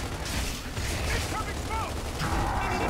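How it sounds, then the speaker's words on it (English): Lancer assault rifle fire in a Gears of War King of the Hill match, a dense continuous mechanical rattle of gunfire coming from all directions with faint chirping effects and voices mixed in. "Now we're seeing Lancer fire. Great Lancer fire coming from all directions."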